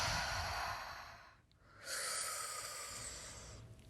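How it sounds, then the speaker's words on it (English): Rhythmic breathing exercise with continuous inhales and exhales and no pause between them, close and breathy, one airy breath fading out around the middle before the next begins. "Inhales and exhales. No holding between the inhale and the exhale."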